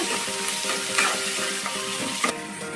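Onions being stirred in a frying pan over high flame, a steady loud sizzle with repeated scraping strokes of the spoon against the pan, no voices.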